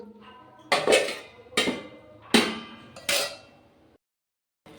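A metal lid clatters onto a cooking pan of spring onion curry, making four sharp clanking hits in a row, close and fairly loud, then silence.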